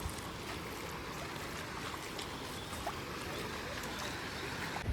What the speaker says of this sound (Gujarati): એટલું પાણી જાય છે